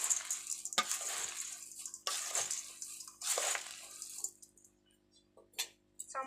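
Jhal muri puffed rice is tossed and mixed in a bowl, producing bursts of rustling, crunchy swishing that come in three long sweeps and then break into shorter scattered shakes.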